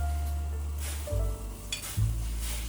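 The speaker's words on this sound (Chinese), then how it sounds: "接下来再把五花肉炒一下" Pork belly stir-fries in a pan with a soft, steady sizzle and a few stirring scrapes, fairly quiet and close, with no talk over it.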